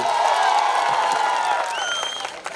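Sustained applause from the audience at a live Odia comedy show in Jajpur, a dense, steady wash of clapping that holds loud for about two seconds and thins slightly at the end.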